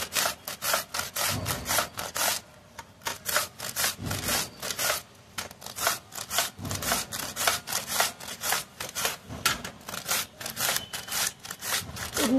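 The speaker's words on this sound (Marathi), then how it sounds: "पूर्ण काकडी मी आता ही किसून घेते." A whole cucumber is grated by hand in a kitchen, with steady rhythmic rasping strokes repeating in quick bursts with brief pauses, close and fairly quiet, no talking.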